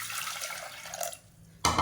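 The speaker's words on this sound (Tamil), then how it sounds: "உப்பு சேர்த்துட்டு கொஞ்சம் தண்ணி வந்து ஊற்றிக்கிறேன்" Water poured into a cooking pot after salt is added, a close splashing flow that fades out, followed by a short louder splash near the end.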